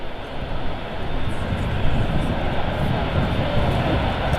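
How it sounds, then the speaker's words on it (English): An Emirates A380 airliner in Expo blue special livery at Manchester Airport gives a steady, broad engine roar that stays loud and unbroken throughout. "The Emirates A380 Expo Blue Special."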